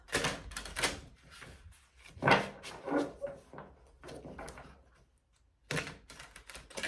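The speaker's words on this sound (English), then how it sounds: "Let's do 2 more shuffles." Bursts of papery riffling and soft slapping as tarot cards are shuffled, several separate shuffles with short pauses between, close by and without talking.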